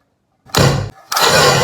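A homemade cannon built from a Yakult bottle and fired with hand sanitizer lets out two loud, close, roaring bursts, the second longer, after a moment of silence.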